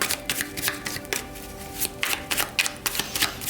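Tarot cards being shuffled for a Leo reading, a run of quick riffling, flicking bursts in an uneven rhythm, close by, with no talking.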